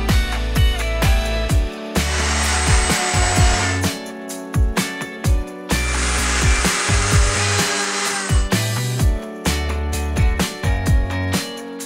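A handheld router cuts bevels along the edges of a wooden Star Wars prop replica panel, two sustained loud whining passes broken by sharp knocks and clatter of handling, no talking.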